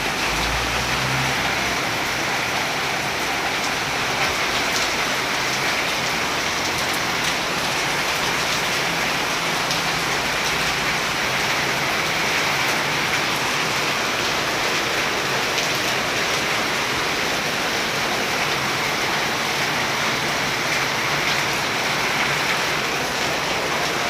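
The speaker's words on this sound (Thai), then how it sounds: "ฝนตกแล้วพี่นะฝนตก" Steady rain pours down continuously outdoors, a dense even hiss at constant loudness throughout with no talking.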